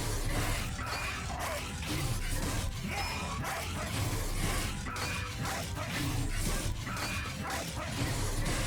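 Bone dog creature barking in the card game Monster Train 2, several sharp yips and barks over a dense, busy mix of game music and battle effects.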